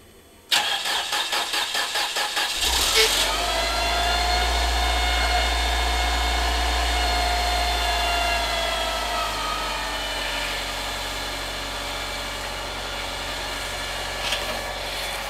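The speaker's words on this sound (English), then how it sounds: "it starts up pretty quick, I think, for a 22-year-old car" A 1989 Chrysler Daytona, 22 years old and unrestored, cold starts after a short whirring crank and catches quickly. It then settles into a steady, loud, close idle with no talking.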